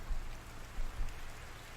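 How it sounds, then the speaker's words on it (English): Rain falling in the medieval survival game Medieval Dynasty, a soft continuous patter with low rumbling undertone, steady and unbroken over a short stretch. "I love the sound of the rain and stuff."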